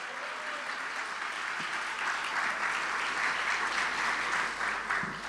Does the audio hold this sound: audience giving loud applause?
yes